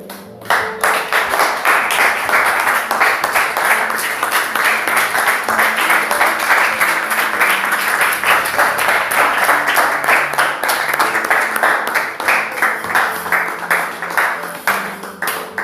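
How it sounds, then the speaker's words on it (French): A Brazzaville church congregation claps in celebration of God, sustained loud applause from a large crowd with sharp individual claps standing out, continuing steadily for many seconds. "Et que le peuple de Brazzaville célèbre Dieu par leur applaudissement."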